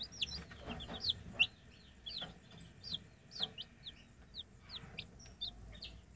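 Newly hatched chicks peeping repeatedly in quick, high, chirpy bursts, fairly close but quiet, over faint background rustling.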